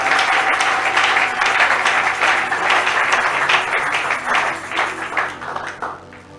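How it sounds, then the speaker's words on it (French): A church congregation at a Sunday worship service applauds together, a dense, sustained wash of clapping that holds steady for several seconds before tapering off near the end, with no talking over it. "Acclamons le Seigneur."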